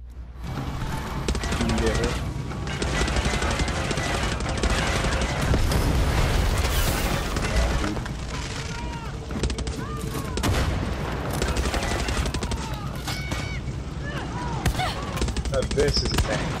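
Constant heavy gunfire and explosive booms fill Far Cry 6 combat, the resolver weapon firing amid a dense, unbroken wall of shots and blasts lasting the whole stretch, loud and close, with faint speech mixed in.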